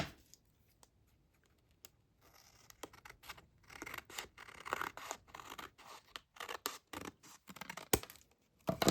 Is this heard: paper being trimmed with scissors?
yes